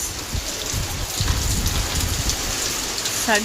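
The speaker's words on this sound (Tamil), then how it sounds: "மழை வந்துருச்சு" Steady rain pouring down and pattering on surfaces during a storm with wind and a power outage, a dense continuous hiss heard up close with no voices.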